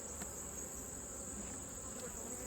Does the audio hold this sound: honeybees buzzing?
yes